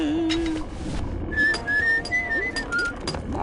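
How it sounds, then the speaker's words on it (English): Melodic whistling in Grim Fandango, a wandering tune of clear single notes close to the ear, playing alone over a low background murmur. "That whistling is very annoying in your headset."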